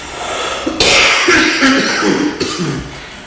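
A person at a town selectmen's meeting coughs and clears their throat in a loud, harsh burst lasting a couple of seconds, with a short second fit near the end, close to the microphone.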